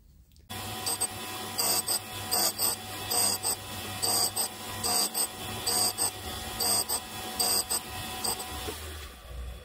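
Tool and cutter grinder sharpening the teeth of a cutter, steady machine hum broken by a regular series of short bright grinding bursts as each tooth passes the wheel, close with no voices.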